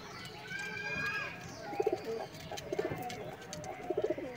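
A Madras pigeon cooing in short repeated bursts while held and released at a loft in Kolkata, the soft throaty coos close by over low background noise, with a few faint higher bird calls early on.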